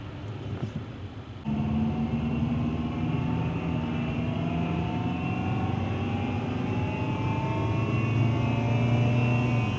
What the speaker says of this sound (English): there was a lot of noise coming through the cabin from that bad bearing